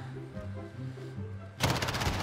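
Gunfire in the shooter Modern Warfare during a Search and Destroy match: quiet game ambience gives way to a sudden loud burst of rapid automatic fire that continues through the last half-second.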